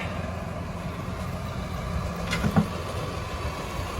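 A tractor engine runs steadily at a low rumble, heard close and unbroken for a few seconds, with a faint knock or clank near the end.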